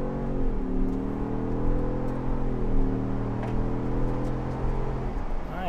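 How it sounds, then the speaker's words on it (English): A 2024 Ford Bronco Wildtrak accelerating from a standstill with its turbo spooling, a steady engine drone that rises slightly in pitch, heard from inside the cabin. "let's check out a 0-60 in the Bronco Wildtrak. A little slow off the line. You can feel the turbo spooling up."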